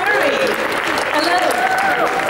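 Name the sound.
applause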